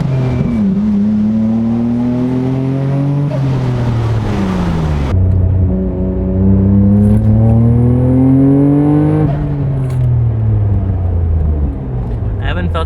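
Nissan Skyline GT-R R34 with roughly 300 horsepower accelerating hard, its engine climbing through the revs in loud surging pulls with gear changes, heard from inside the car.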